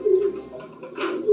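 Fancy pigeons in a loft give a soft, low coo, close by and brief, with a light rustle partway through.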